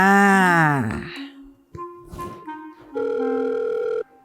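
A telephone call is placed: a brief dialing sound, then a steady electronic ringback tone of about one second that stops abruptly, after a sweeping tonal sound at the start.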